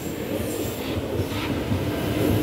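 Old metro train running toward Samambaia at Asa Sul station in Brasília, Federal District, a steady heavy rumble of wagons rolling on rails with faint wheel squeal, continuous and fairly close, no talking.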